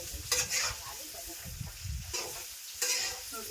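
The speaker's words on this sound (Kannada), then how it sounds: "ಬೆಳ್ಳುಳ್ಳಿ ಜೊತೆ ಒಂದು ಸ್ವಲ್ಪ ಹಿರಿಕಾಯಿಗಳ ಫ್ರೈ ಮಾಡ್ಕೊಳ್ತೀವಿ" Ridge gourd frying with garlic in a little oil gives a steady close sizzle, broken by several louder scraping stir bursts, with no talking.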